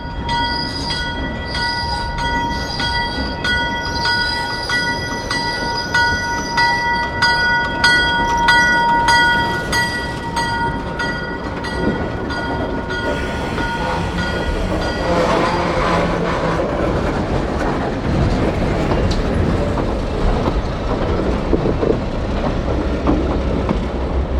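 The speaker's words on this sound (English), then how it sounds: "the train rides the brakes downhill into the yard" An ALCO switcher locomotive rides its brakes downhill while street running into a small railroad yard, its wheels squealing with high sustained tones, then heavy rolling rumble and clatter of railcars, loud and close, with no talk.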